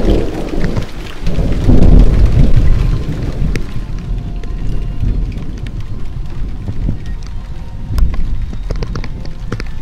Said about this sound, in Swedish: bara några minuter senare så kom världens åskoväder